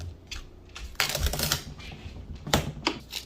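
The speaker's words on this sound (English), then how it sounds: "let's take this tape out." Packing tape peeled off a new rice cooker during unboxing, sharp ripping bursts with a long loud tear in the middle and a shorter one near the end, close up.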